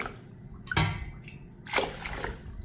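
Mappilai Samba rice washed with water in a bowl, with a couple of close sloshing, splashing swishes of water and grains against a quiet background.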